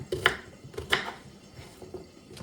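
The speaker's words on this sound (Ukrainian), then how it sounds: "нарізаю огурчик" A knife slices through a cucumber on a cutting board at home, a few quiet, separate knocks of the blade against the board at an unhurried pace, close and soft.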